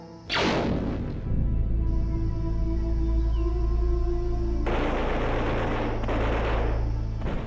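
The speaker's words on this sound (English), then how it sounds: "asking Bly if he thought there were hostiles nearby, only to be shot at after" Gunfire in a Star Wars film scene with Aayla Secura and clone troopers: a sudden loud blast followed by sustained rumbling, crackling fire and a second burst of shots, close and dense.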